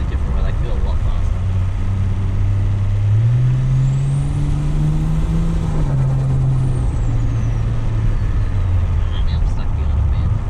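A Toyota Crown JZS171 drives along a road, its engine giving a steady low drone with a tone that rises and falls through the run, heard from inside the car under constant road noise.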